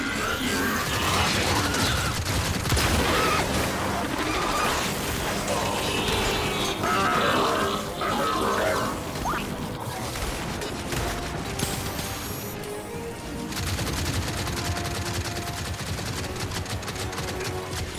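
Longshot rifle fire in Gears 5, heard amid dense game combat noise of clanking mechanisms, bursts and rattling gunfire, loud and continuous throughout.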